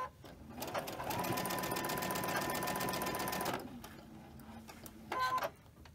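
A sewing machine chain-stitches quilt block pieces in one steady, fast run of close stitching lasting a few seconds, then stops, followed by a brief second burst of machine noise near the end.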